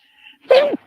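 A single short, sharp sneeze bursts out close by after a faint quiet moment, then stops abruptly.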